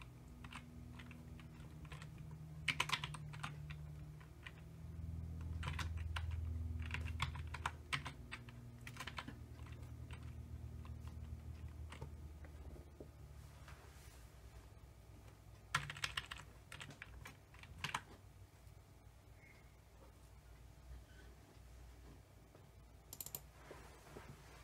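Fingers type on a computer keyboard in a quiet room, tapping in irregular clusters of soft clicks with pauses between bursts, under a faint low background hum.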